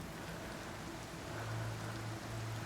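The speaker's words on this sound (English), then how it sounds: "this rain's causing problems" Rain pours in the climbing game Cairn, a dense, constant wash of falling water with a low murmur underneath, no speech.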